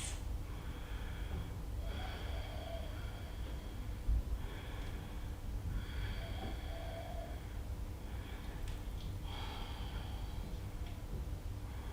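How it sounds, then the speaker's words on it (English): Slow, deep breaths held in a yoga reverse plank, several long audible inhales and exhales, soft and close over a quiet steady background. "5 deep breaths."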